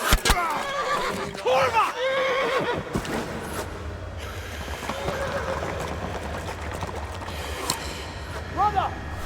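Horses whinny loudly in a Kingdom Come: Deliverance game scene by a riverbank, with hoof clatter and someone shouting over the commotion and game noise.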